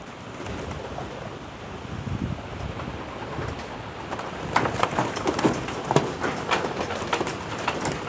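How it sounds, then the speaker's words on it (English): Steady wind roars outdoors around a pigeon loft, with gusts building in the second half, while pigeons coo and rustle faintly underneath. "Oh, that's actually getting pretty windy out there."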